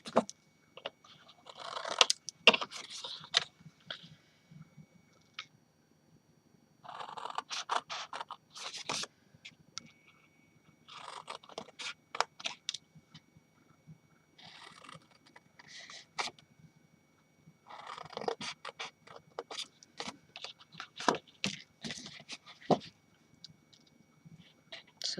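Cardboard being cut by hand for a snowman tag box: bursts of crunchy, scratchy cutting and tearing in several separate spells, close and fairly quiet, with pauses between and no talking.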